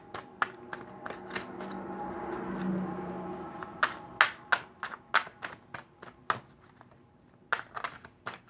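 Tarot cards being shuffled during a reading: a brief soft riffling rush followed by a series of sharp, close card slaps and taps in an uneven rhythm, with no talking.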